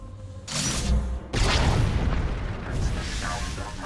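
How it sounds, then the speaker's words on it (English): Flux cannons firing on a capital ship in Star Wars: The Old Republic, heard as two heavy booming blasts, the second longer and rumbling on, loud and close with a voice over it. "That's the sound of my flux cannons incinerating one of your capital ships."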